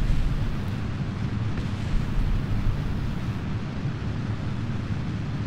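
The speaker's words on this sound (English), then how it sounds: "Second asparagus detached, and we have had an explosion." An explosion in Kerbal Space Program during a rocket launch after a second asparagus booster detaches: a sustained, heavy, rumbling roar that stays broad and steady throughout, without a sharp initial bang.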